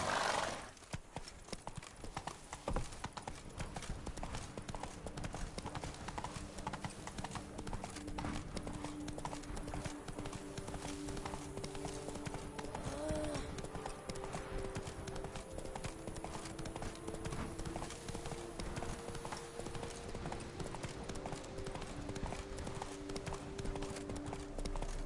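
Roach, the horse in The Witcher 3: Wild Hunt during the Blood and Wine expansion, runs with fast continuous clip-clop hoofbeats over a long stretch, with an occasional snort or whinny and a faint game background.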